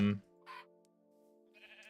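A short sheep bleat in a video game sounds at the start, followed by a thin sustained tone and a few faint clicks, with another brief bleat-like sound at the end.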